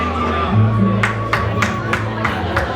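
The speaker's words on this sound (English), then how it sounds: "Round of applause for our religious committee." Audience at a Diwali ball applauding and cheering a religious committee being honoured, with steady crowd noise and sharp claps or whoops, low music and voices running underneath.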